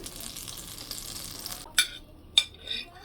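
Butter sizzles in a hot pan for a creamy pasta sauce: a steady, close hiss that cuts off abruptly, followed by two sharp metallic clinks of a utensil against the pan.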